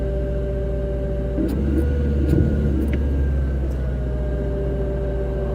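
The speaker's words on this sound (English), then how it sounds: "Oh, traffic is unbelievable." Dense city road traffic in Chicago heard from inside a car, a steady low engine rumble with passing vehicles and faint higher clicks, continuous and fairly loud, no talking.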